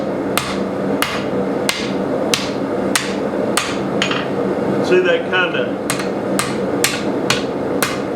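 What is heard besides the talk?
blacksmith hammering metal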